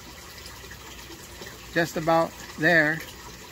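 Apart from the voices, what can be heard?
water flowing in an aquaponics U-siphon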